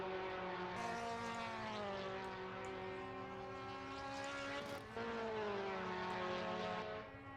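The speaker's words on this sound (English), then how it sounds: "someone just came past warming up the brakes by the sounds of things" A 1973 British Formula 3 race car screams past on the start-finish straight, a loud sustained high-revving engine note with a falling pitch sweep as it goes by, then climbing again.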